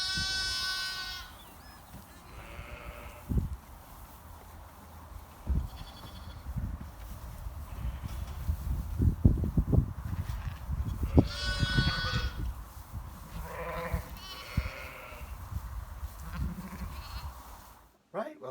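Sheep and lambs bleat in a farm pen, several wavering calls near and far over a steady rustle and shuffling of animals, with someone talking quietly underneath.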